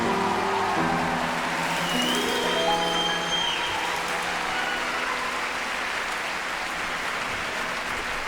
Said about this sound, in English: Give yourself a round of applause there